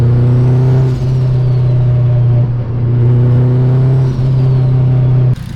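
Turbocharged K-swapped Honda EG hatchback, a steady loud engine drone with turbo whine spooling up and fading twice, holding one even pitch before cutting off abruptly at the end.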